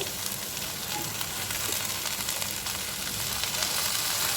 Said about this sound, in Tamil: உப்பு சேர்த்து நல்லா சுருளை வதக்கிக்கலாம்